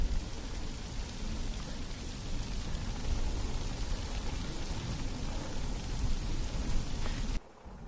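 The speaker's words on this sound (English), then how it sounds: "Let's get out of this rain." Steady rain hisses and patters across a surface, a dense, even wash of sound that continues throughout and cuts off abruptly just before the end.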